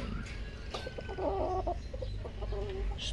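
Clucking from a 7-month-old gamefowl rooster of a breeding bloodline, a few short near calls over low rumbling background noise.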